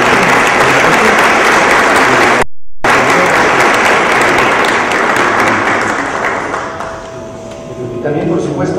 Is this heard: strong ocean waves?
no